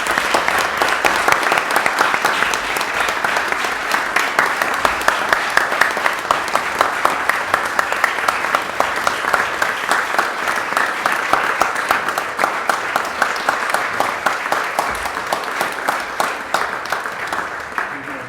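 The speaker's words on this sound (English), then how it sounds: "give a big round of applause to Linda and the entire Community Foundation" Sustained applause from a crowd at a Whitefish city council meeting, a dense, steady patter of many hands clapping that continues for a long stretch.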